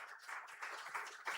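A conference audience applauds the jury, a brief, soft patter of many hands clapping, heard faintly from a distance.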